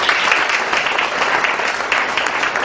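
Audience applause at a cultural evening, loud dense clapping from many hands holding steady throughout, near and without voices on top.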